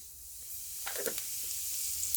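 Panch phoron spices and dried red chillies drop into hot mustard oil for a green mango pickle, giving a soft, quiet sizzle with a brief crackling burst in the middle, then a low steady hiss.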